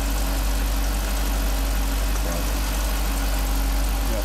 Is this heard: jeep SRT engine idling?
yes